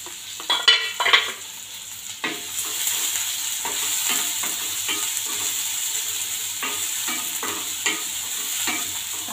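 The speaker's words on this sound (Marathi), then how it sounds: "कांदा टाकते, एक मोठा कांदा चिरून घेतलाय।" A large chopped onion fries in oil with garlic, a constant close sizzle under repeated brisk stirring and scraping strokes, a few sharper clatters early on, with no speech.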